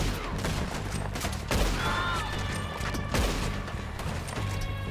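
Shotgun fire in the video game Red Dead Redemption 2 during a train robbery, several heavy blasts spaced over a dense backdrop of gunfire and game music.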